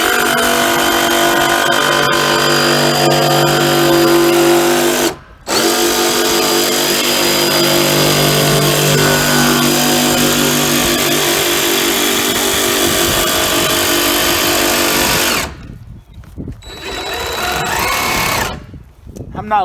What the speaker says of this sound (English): That'll be a starter hole to get my jigsaw in.